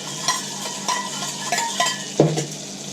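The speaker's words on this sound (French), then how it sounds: "Je mélange." A spoon stirs salad dressing sweetened with half a spoonful of honey, giving several short scraping clinks against the bowl at a steady pace, close by and moderately loud.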